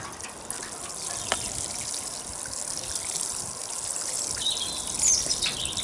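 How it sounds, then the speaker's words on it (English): Water trickles and splashes steadily onto soil around a newly planted bare-root agapanthus in a garden, a soft continuous pour with faint birdsong in the background. "give it a bit of water, give it a good soak"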